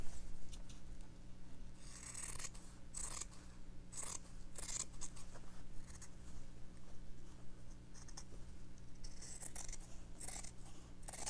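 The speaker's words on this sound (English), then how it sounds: "I'll cut that out." Scissors snip through fabric while a face-shaped page is cut out for a slow-stitching project, a faint, close series of soft slicing snips with short pauses between cuts.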